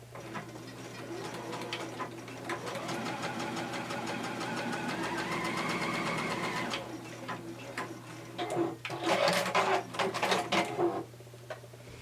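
A sewing machine stitching the front seam of a coat with a 1.5 cm seam allowance runs as a steady whirring motor with rapid even ticking, then gives a few shorter louder bursts before stopping. No one speaks.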